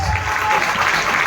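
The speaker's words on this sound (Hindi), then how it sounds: "तो जोरदार तालियां होनी चाहिए" Loud, dense clapping from a large crowd, continuous throughout the brief moment.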